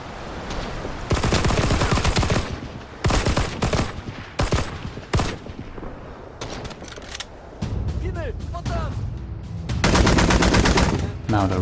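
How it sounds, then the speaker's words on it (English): Finnish light machine gun in the Winter War mod of Rising Storm 2: Vietnam, loud close bursts of rapid automatic fire broken by short pauses, with other battle noise between bursts. "The favorite for me, however, has to be the Finn's light machine gun"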